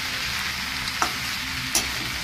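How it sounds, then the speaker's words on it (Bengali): Spices and potatoes fry in a pan over a high flame, sizzling constantly with two brief sharp crackles or spoon scrapes rising above the steady hiss. "এতক্ষণ পর্যন্ত হাই ফ্লেমে কষাচ্ছিলাম, আলুটাও ভেজেছি হাই ফ্লেমে"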